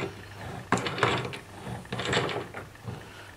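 Mechanical clicking and ratcheting while a clutch and torque-limiter block is tightened on a Typhoon or Stalker RC vehicle, a few quick close bursts in a quiet room.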